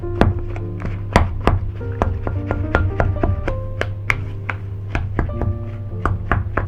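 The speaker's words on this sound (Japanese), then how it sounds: "バターを切り刻むように混ぜます" Cold cubed butter is chopped into scone dough with repeated quick, fairly close thunks and taps against a bowl, an irregular rhythm of sharp hits over a low steady hum.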